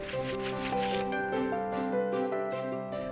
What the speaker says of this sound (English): Just sand away any rough edges so the birds don't get snagged on their way out.